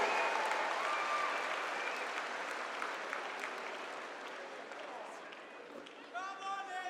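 A crowd applauds at a strongman log lift event, a dense, sustained roar of clapping that fades gradually while an announcer speaks over it.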